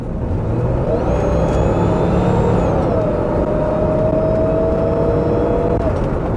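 A Jeep Cherokee XJ engine revs up with a rising whine heard from inside the cabin, then settles into a steady drone over constant road rumble.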